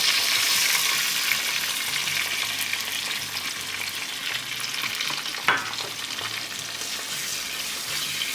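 Small onions and sliced big onion frying in oil in a clay pot for a tilapia fish gravy, a loud, even sizzling hiss close up that fades slightly over time, with one brief scrape partway through.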